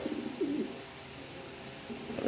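A pair of adult pigeons cooing softly and repeatedly, low throaty coos over a quiet steady background, nearby and unaccompanied by talk.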